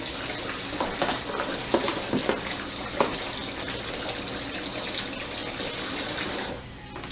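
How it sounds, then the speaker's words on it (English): Water runs from a tap into a sink filled for washing laundry, a steady close rushing and splashing that cuts off abruptly near the end. "And then I'll add a little bit more water."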